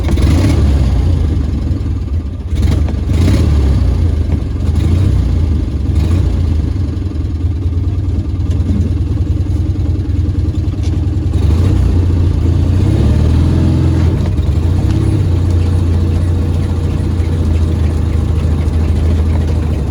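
Homemade replica Model T truck on its first drive, its engine giving a loud, steady low rumble and clatter throughout, close up, with slight surges in revs and no one talking.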